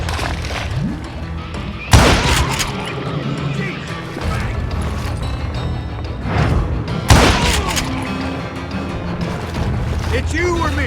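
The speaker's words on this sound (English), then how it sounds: "a fusillade of bullets come raining down from on high" Gunfire volleys in the Western shooter Call of Juarez: Gunslinger, with sharp loud blasts near the 2- and 7-second marks and scattered shots and thuds between them, set against game music and a voice talking.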